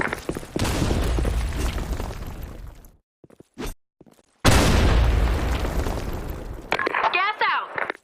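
Grenade blasts in a multiplayer shooter match: two heavy, loud booms, each with a long rumbling tail, separated by near silence and a brief thump, followed by crackling debris; voices are heard briefly.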